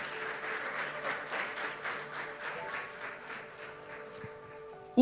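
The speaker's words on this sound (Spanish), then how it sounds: "Aplaude ese diseño en el nombre de Jesús." Church congregation applauding during a sermon: a steady wash of many hands clapping at moderate distance, fairly even throughout, cutting off abruptly near the end.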